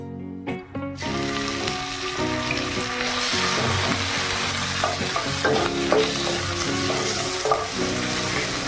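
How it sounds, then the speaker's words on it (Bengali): Ginger paste and whole garam masala fry in a pan, producing a loud, continuous sizzle with bubbling crackle and stirring scrapes, starting abruptly after a short quiet moment and holding steady throughout. "গরম মশলা হালকা ভাজা হয়ে গেলে দিলাম এক চামচ আদা বাটা"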